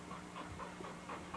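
A 15-month-old blue bubble bred female dog in a kennel yard pants steadily and softly, a rhythmic breathy huffing repeating about every quarter second, close by with no talk.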